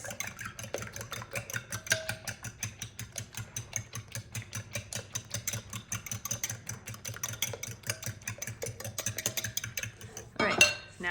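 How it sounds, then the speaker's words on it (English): Eggs being whisked in a bowl for pancakes, a fast, steady clinking rhythm of utensil against bowl running close and continuous, with a louder clatter near the end. "Now I'm going to mix up the eggs"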